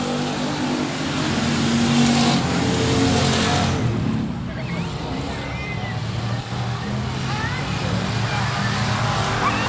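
Race cars roar around the 67 Speedway of Texarkana, engines loud and sustained as they pass, with an announcer talking over the continuous track noise and crowd.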